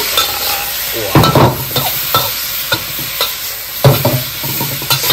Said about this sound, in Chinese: 好的，开大火。 翻炒两下。